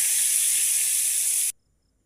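Fish fry in hot oil in a wok, a bright, dense sizzling hiss that holds steady for about a second and a half, then cuts off abruptly into silence.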